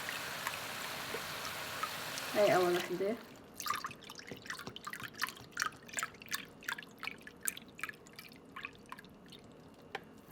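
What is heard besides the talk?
vegetable broth being poured into pot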